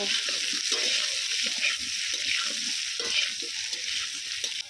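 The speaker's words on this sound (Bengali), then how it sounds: "আলুটাকেও আমি খুব ভালো করে একটু ভেজে নেব" Potatoes sizzle steadily in hot oil with salt, a dense, continuous crackling frying sound, close and fairly loud throughout.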